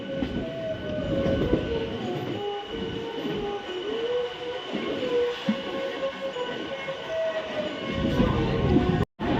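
Howrah-Kathgodam passenger train passing close by, a loud continuous rumble and rattle of wagons rolling along the track with a high metallic squeal.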